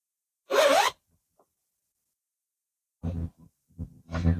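A yarn bag's zipper is pulled open in one short, loud, rasping burst, close to the microphone, followed by a pause and some soft rustling and low voice-like sounds.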